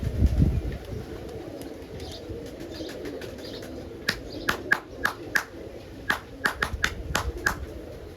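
Roller pigeons at a loft give soft coos and sharp bursts of wing-flapping and claps, several quick flutters in a row, close by, with someone talking over them.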